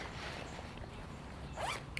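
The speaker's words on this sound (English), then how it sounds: "And there's also pit zips," Pit zips on an airsoft combat shirt being worked, a faint soft fabric rustle followed by one short, quick zipper pull near the end, heard up close with no talking.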